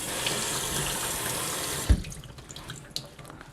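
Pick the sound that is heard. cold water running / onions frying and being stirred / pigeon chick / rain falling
cold water running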